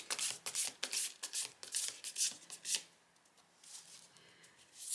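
Tarot cards are shuffled and drawn, a quick series of soft, crisp riffling flutters and slaps in close succession for about three seconds, then a quieter pause with a faint card sound at the end.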